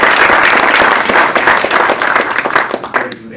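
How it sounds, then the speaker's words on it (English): Loud audience applause at a mining industry lunch, close and dense at first, then thinning into scattered claps that fade out. "a round of applause"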